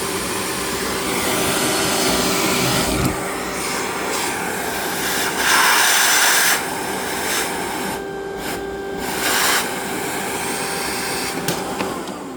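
Makita XGT 80V cordless vacuum running its automatic filter-cleaning cycle, a steady loud motor whine with brief shifts and surges in pitch and level throughout, alone without voices.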